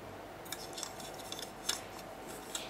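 Sharp, crisp snips from a small blade tool, several quick cuts at irregular intervals over a faint steady hum, close by.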